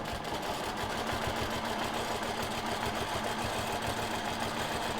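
During dot-to-dot charity quilting, a sewing machine runs a line of stitches along a ruler, holding a steady, even motor drone with quick needle beats close by and no speech.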